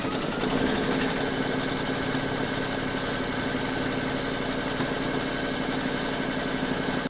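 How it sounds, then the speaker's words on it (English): An embroidery machine stitches a hoop design for a crazy patch mug rug, a steady close mechanical whirring and rapid clatter running continuously without pause. "Pop your hoop into your machine and stitch round number 2 to secure it."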